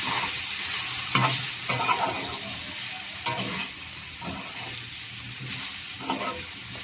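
Spicy curry of dried prawns and okra stirred in a sizzling pan, with scraping strokes of the spoon at irregular intervals over a steady close frying hiss.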